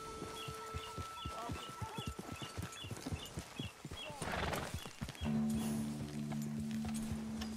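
Horse hooves clip-clop in a quick, regular rhythm in Red Dead Redemption II, followed by a loud whinny, with sustained tones and someone talking over the game sounds.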